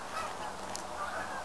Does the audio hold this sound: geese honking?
yes